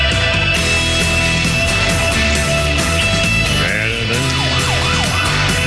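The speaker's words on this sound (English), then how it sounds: "Sirens." Emergency sirens wail on a radio broadcast, their rising and falling tones mixed into a busy music bed that keeps playing at steady volume throughout.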